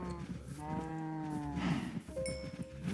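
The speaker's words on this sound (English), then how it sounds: "Hello cows!" Cows in the Minecraft video game, several drawn-out moos overlapping one another, fairly close and clear with no talking.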